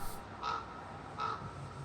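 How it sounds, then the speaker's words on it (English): A crow caws twice, clear and spaced apart, in a folk song, standing out over a soft, steady musical drone. "Sounds a lot like a crow. Wait, nope, that is a crow"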